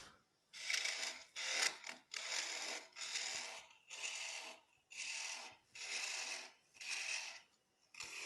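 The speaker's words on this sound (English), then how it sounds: "just removing material with our spindle gouge" A spindle gouge cuts a wooden spindle turning on a lathe, producing repeated rasping, shearing passes of about half a second to a second each, separated by brief pauses, close and fairly even.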